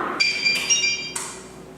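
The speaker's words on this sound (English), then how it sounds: "I got the Kim Possible ringtone" A Kim Possible ringtone chimes from a phone in a home kitchen, three bright electronic tone bursts in quick succession, loud and close, with no voices.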